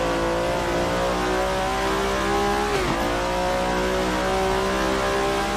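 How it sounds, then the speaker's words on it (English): A V8 race car with a five-speed gearbox in the Assetto Corsa sim holds a loud, steady engine drone, with one quick dip and rise in pitch around a shift midway. "Does sound like a V8."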